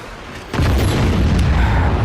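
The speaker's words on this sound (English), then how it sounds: "at least the explosions look cool" A sudden loud blast in the video game Just Cause 3 cuts in after a quiet start and rolls on as a heavy, sustained rumble of debris and fire.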